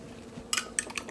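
A utensil clinks and scrapes against a bowl as milk is stirred into dough, with a few short, sharp metallic taps close by over a quiet background.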